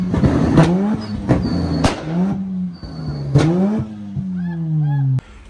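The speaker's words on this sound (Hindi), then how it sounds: "आप ये डबल एग्जॉस्ट टिप्स देख सकते हैं जिसमें फ्लेम किट लगी हुई है, और ये 4 फुट का फ्लेम थ्रो करती है गाड़ी।" A car fitted with double exhaust tips and a flame kit revs hard several times, loud rising engine blips with sharp pops and crackles between them, ending abruptly.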